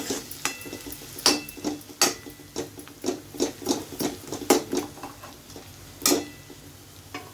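Cooked onions with turmeric and salt are stirred in a pan, a spoon scraping and tapping in repeated distinct strokes, some louder, at an uneven rhythm with a soft background sizzle.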